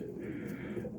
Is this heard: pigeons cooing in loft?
yes